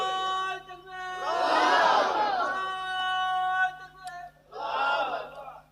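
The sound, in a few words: crowd shouting the takbir (Allahu Akbar) louder at a sermon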